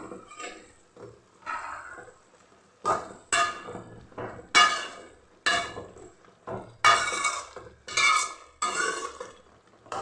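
A metal lid being lifted off a cooking pot to check simmering drumstick aviyal, with several sharp clanks and clatters of metal on metal at intervals, close and fairly loud, no talking.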